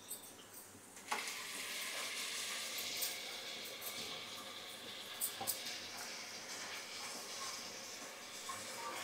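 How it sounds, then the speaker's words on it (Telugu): Tomato paste hits a pan of hot spice paste with a sudden hiss, then sizzles softly and steadily at low volume, with a few faint clicks along the way. "ఇప్పుడు మనం టమాటా పేస్ట్ వేసుకుందాం."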